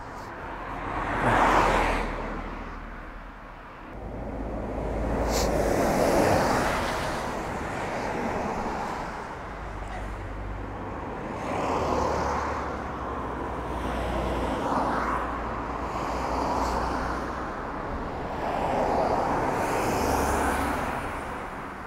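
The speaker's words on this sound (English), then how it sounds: "Lots of cars going by." Cars pass by on a road near Llyn Cwmffynnon and Nant Gwryd in Snowdonia, swelling and fading one after another at a steady distance, mixed with wind noise on the microphone.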